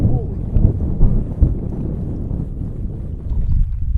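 Gusty wind buffeting over the water on a trout fishing boat, a constant low roaring rumble close to the microphone with a few brief thumps.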